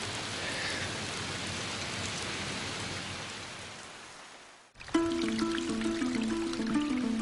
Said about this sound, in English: It's proper tropical rain, and the first downpour in almost a week.